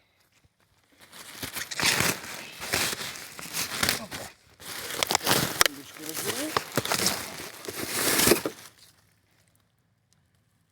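A plastic bag crinkles, rustles and crackles as it is handled and rummaged through at a garbage dump, in loud irregular bursts, with a brief spoken exclamation and a short pause midway, then falling silent.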